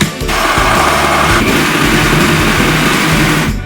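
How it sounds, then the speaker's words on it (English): Motor of a kitchen blender whirring steadily and loudly as it blends a green smoothie of spinach and green tea, a continuous churning drone from start to end with no voices. "I'll put 2, and then we'll blend it"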